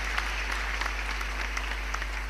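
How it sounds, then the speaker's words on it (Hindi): An audience claps at a Hindi poetry recital, a steady, even wash of many hands applauding together without any voice over it, accompanied by a constant low hum. "अपनी तालियों से आदेशित करना।"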